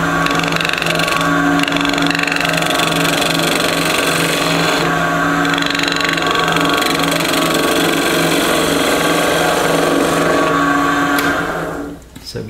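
Wood lathe turning a bocote wood pendant with an off-center domed surface, giving an interrupted cut: a steady, loud motor whine with a dense tool-chatter texture holding throughout, then dropping away near the end.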